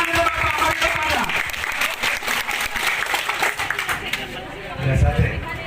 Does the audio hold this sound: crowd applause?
yes